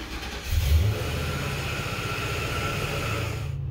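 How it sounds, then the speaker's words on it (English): A car engine turns over with a brief loud crank, then settles into a steady, close idle that hums evenly to the end without talk. "let's turn on the car"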